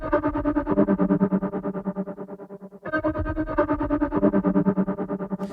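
Dark City, a synth patch from the EastWest LO-FI library, drones in two sustained, distorted chords that pulse quickly with a tremolo-like flutter, dark and fairly loud, with a brief gap between them.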